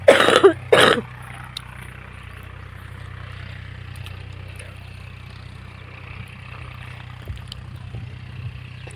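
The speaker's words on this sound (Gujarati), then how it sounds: "ઉધરસ થઈ" A person coughs twice in quick succession near the microphone, followed by a low steady engine hum in the background of a farm field.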